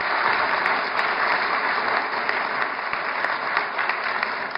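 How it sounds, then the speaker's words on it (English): Dense, continuous applause from a crowd at a town council meeting, loud and sustained with a few sharper claps rising above the wash. "can we keep the applause down, please?"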